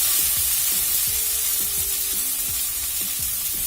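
Cumin paste fries in a pan with a bright, even sizzle and hiss close by, while low scraping and knocking sounds from stirring run underneath.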